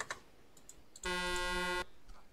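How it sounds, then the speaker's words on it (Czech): Car horn sound borrowed from Euro Truck Simulator, played in the video game Arma, sounding as one steady, loud, harmonic-rich blast lasting under a second, with faint clicks before and after. "Vykrvený klakson z Eurotrucku."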